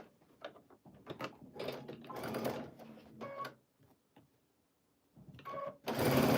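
A sewing machine stitches fabric in short, close, rattling bursts separated by brief pauses, ending on a loud run, with no talking over it.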